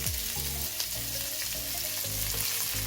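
Lamb chops with garlic and melted butter fry in a pan, giving a steady, close sizzle with crackling pops throughout and no talking.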